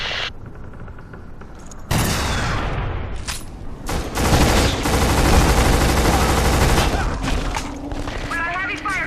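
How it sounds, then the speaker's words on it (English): Heavy gunfire in the 2006 video game Black, dense overlapping rifle fire and booming blasts that start abruptly and roar on loudly for several seconds, with speech mixed into the din. "We got heavy fire coming in from that high ground."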